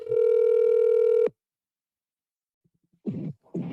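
A telephone call rings out with one steady ringback tone of a little over a second, then silence, then a few muffled low thumps close by.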